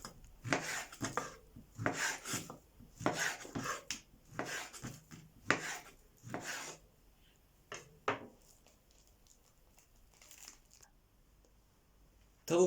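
Rhythmic scraping cuts on a wooden board, a steady run of strokes that slows and becomes sparse toward the end; close, no talking.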